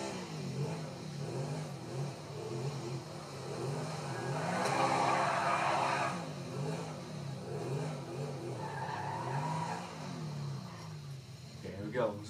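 A car engine in a racing video game, including a Lamborghini, revs in repeated rising and falling sweeps at moderate loudness, with a person talking over it at times.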